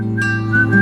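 Someone whistles a short, steady tune, a bright sustained tone that shifts pitch once or twice over a low hum, close and moderately loud, with no talking.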